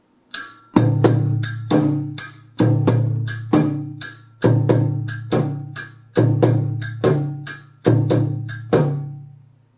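Dunun hand drums play a steady repeating pattern of deep resonant strokes, some doubled, with short muted hits between them, loud and close, with no talking.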